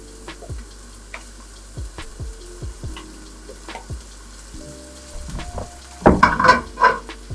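Oil heating to smoking in a hot frying pan: a low sizzle broken by sharp, scattered crackling pops, ending with a denser burst of spitting and faint clatter.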